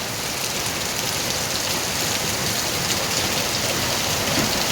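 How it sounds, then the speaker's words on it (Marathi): Heavy rain in Mumbai pours down in a dense, unbroken roar of drops, loud and steady throughout with no voices. "बघा मुंबईला किती पाऊस आहे"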